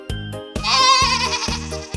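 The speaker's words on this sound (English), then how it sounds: "Tiko and Lala see a goat standing on a rock" A cartoon goat in a children's alphabet lesson bleats loudly and close, a wavering, nasal cry drawn out over a second, framed by short low musical beats before and after.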